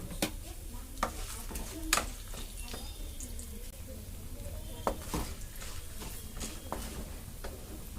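Chana dal, urad dal and dried red chillies frying in a pan, a soft steady sizzle with occasional clinks and stirring knocks, fairly quiet and without talk.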